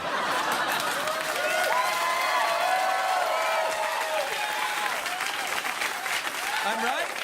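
Studio audience applause on a late-night talk show, a dense, sustained wash of clapping with scattered laughter and voices mixed in, holding steady throughout.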